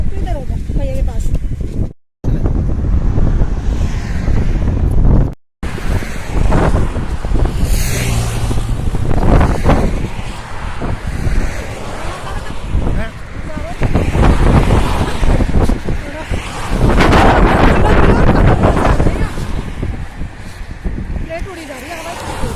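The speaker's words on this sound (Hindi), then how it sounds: "प्लेट उड़ी जा रही है, हवा चली गई है।" Strong outdoor wind buffets the microphone in loud, continuous gusty roars with brief dropouts, while people talk over it.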